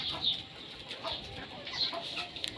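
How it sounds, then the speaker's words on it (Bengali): Desi chickens cluck and squawk softly in a small poultry farm shed, faint scattered calls under a light background hiss. "এখানে 40টা মুরগি আছে, বাইরে 40টা আছে, সব দেশি মুরগি।"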